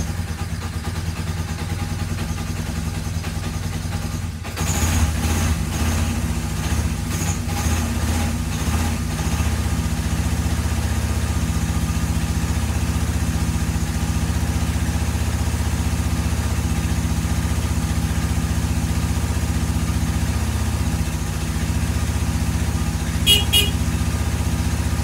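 A free Kawasaki KZ750 motorcycle on choke sputters briefly, then catches and settles into a steady, loud idle that holds without a break for about twenty seconds.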